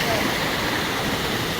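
Nabaloto Falls in the Philippines fills the air with a loud, steady roar of rushing water heard from close by, a continuous wash with no breaks.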